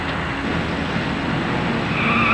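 Police cars drawing closer along a road, heard as a steady, loud wash of car and tire noise with a faint rising whine near the end, no talk over it.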